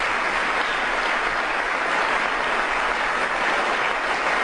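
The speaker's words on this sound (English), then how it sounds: "Big applause break." Sustained broadcast crowd applause during a John Kerry speech on the day after the 2004 US election, a steady, slightly muffled roar of clapping heard alone for several seconds.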